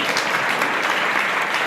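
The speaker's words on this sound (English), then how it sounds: "Can we clap for our chairman?" Short burst of audience clapping for the chairman at a boys' school alumni golf challenge gathering, even and moderately loud throughout with no talking over it.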